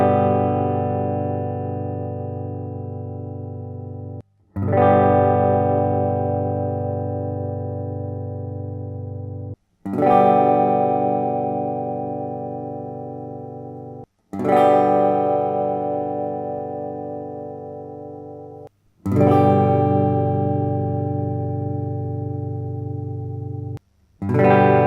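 Heavily distorted electric guitar chords through a tube amp, each struck and left ringing for about five seconds before cutting off, repeated six times with a thick, saturated tone.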